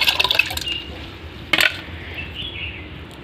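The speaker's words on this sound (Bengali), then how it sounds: "তো এখানে ভিজিয়ে রাখা চালটা দিয়ে দেবো।" Soaked rice tipped into a pot of hot water for plain boiled rice, with a burst of splashing and clattering pouring at the start and a second short splash midway, then a soft hiss of the pot.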